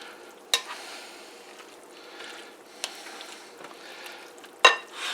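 Breakfast casserole mixture being stirred in a pan, a soft continuous scraping and squishing with a few sharp clinks of the utensil against the pan, close and alone.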